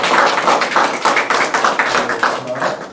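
A church congregation claps together during a worship service, a steady run of quick, bright claps filling the room for a few seconds.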